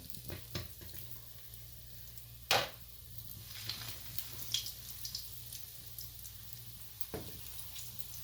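Sandwiches fry quietly in hot oil with a soft, faint sizzle, broken by a few sharp clatters and taps of utensils or pan.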